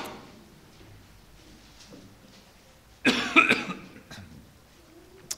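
A single harsh cough from a person with a strong flu, loud and abrupt after a quiet stretch with faint background sounds, followed by a brief tapering rasp.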